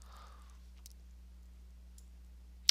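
A computer mouse gives a single sharp click at the very end, with a couple of fainter ticks before it, while a screenshot is taken in Windows 10. It sits over a quiet, steady hum with no speech.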